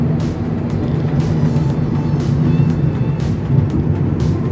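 A car driving along the winding Tamhini Ghat mountain road, with a steady engine drone and road rumble that continue evenly throughout, with no one talking.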